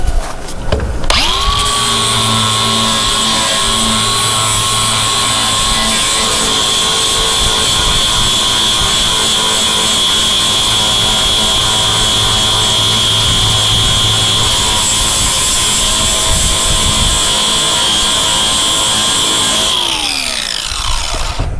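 Power sander with 40-grit paper grinding body filler down to bare metal on a 1978 Chevy Impala Aerocoupe body panel: a loud, steady, high whine that runs unbroken for about twenty seconds, then winds down at the end.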